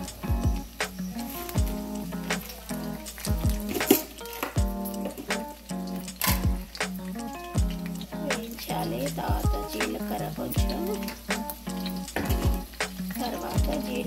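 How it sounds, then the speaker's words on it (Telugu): Cumin, curry leaves and cashews frying in about two spoons of hot oil in a pan, a steady close sizzle with repeated stirring clinks and scrapes, while a voice talks throughout. "జీలకర్ర, కరివేపాకు, జీడిపప్పు వేసి కొంచెం నూనెలో కాగిన నూనెలో వేయించాలి"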